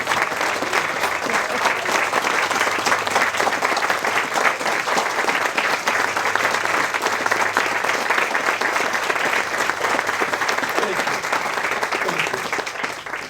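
A crowd gathered for a sheriff's office event applauds warmly and continuously, a thick even wash of clapping lasting well over ten seconds.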